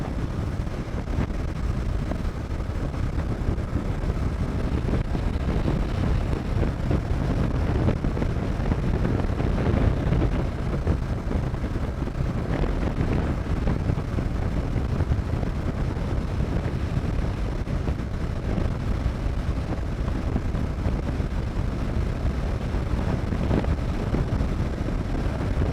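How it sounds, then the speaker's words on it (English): Steady rushing wind buffeting the microphone while riding a KLR650 motorcycle on a morning commute, a continuous loud low roar with no break and no speech. "you get quite a bit of wind sometimes coming through here"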